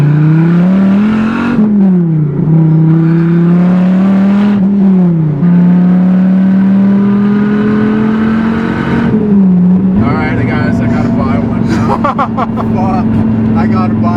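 A supercar's engine drones loudly from inside the cabin while driving, its pitch climbing through repeated rev-and-shift cycles and then holding steady, with a faint voice beneath.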